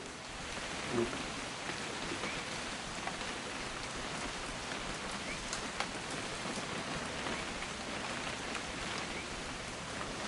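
Steady rain in a PS4 game falls and patters on surfaces, a constant dense hiss with scattered drops, close and unbroken throughout.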